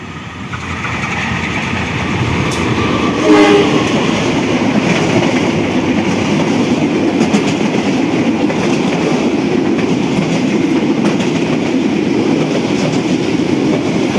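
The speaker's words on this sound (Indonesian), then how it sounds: "Dari arah belakang kereta api Mataram" Mataram passenger train hauled by locomotive CC20336 passing close by on a track hemmed in by houses: a steady, loud rolling rumble with clattering wheels and engine noise held throughout, with no speech.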